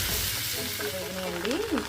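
Okra frying over a medium flame in a pan with onion, turmeric and salt, a close steady sizzle with stirring scrapes, while a voice briefly sounds in the background.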